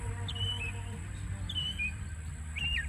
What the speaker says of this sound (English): there's a bird trying to make a nest